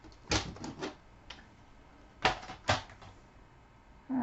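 Cardstock being trimmed to 3 3/4 by 5 inches for a card layer on a paper trimmer, with several crisp slicing and clicking strokes in short bursts, one pair near the start and another pair later, close and moderately loud without speech.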